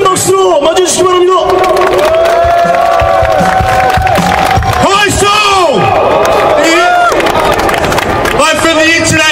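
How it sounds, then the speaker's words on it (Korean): A large crowd at a Korean general-strike labor rally cheers, shouts and claps to welcome a speaker, a loud, sustained roar of voices with whoops and calls rising above it. "뜨거운 박수로 맞아주시기 바랍니다"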